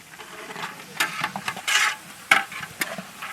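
Capsicum, beans and carrots are stir-fried for fried rice in a pan of ghee with cashews and raisins, giving a soft, uneven series of scraping stirs and light sizzling taps at moderate distance.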